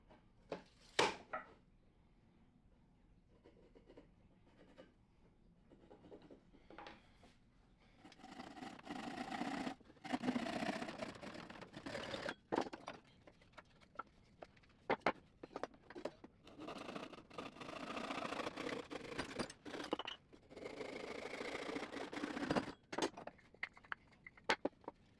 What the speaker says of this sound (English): To keep it a little traditional, I'm cutting the legs with a pull saw.